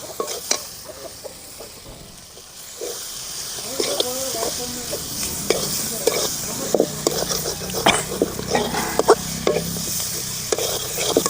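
Ground spice powder frying in hot oil for a traditional village-style banana leaf curry, a steady close sizzle with frequent scraping stirs and clinks of a spoon against the pan.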